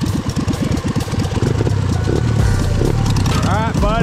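A hoodless race lawnmower engine idles close by with a fast, lumpy putter, then settles into a steady rumble while people talk over it.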